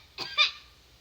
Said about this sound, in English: the birds sound weird today